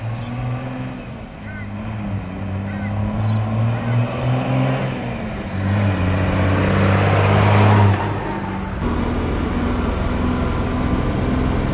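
A Mercedes-Benz Unimog U1700 truck fitted with a high-speed crown wheel and pinion cruises at about 85 km/h, its engine droning steadily at around 2000 RPM under loud road and wind rumble that swells and settles.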